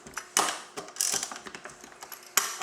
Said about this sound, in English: I would suggest to loosen the dampener cover bolts, which is a number 40 Torx